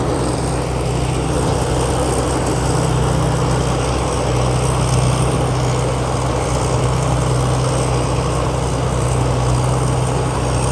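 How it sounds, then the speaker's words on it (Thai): Temco All New Pro S7000 rice harvester powered by a 240-horsepower Isuzu 6HK engine, running steadily throughout with a loud, continuous low drone and dense mechanical hum, no voices. "รุ่นนี้ใช้เครื่องยนต์ใหม่ครับ"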